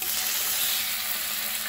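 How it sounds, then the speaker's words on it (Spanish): Pork spine sears in a very hot titanium frying pan, giving a loud, continuous sizzle and crackle up close with no talk over it. "con unas pinzas voy a empezar a sellar la carne."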